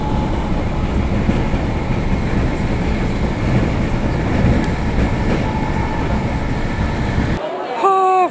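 A train rolls steadily along the rails in Kent, England, with a continuous rumbling clatter, loud and close, ending with a brief high squeal.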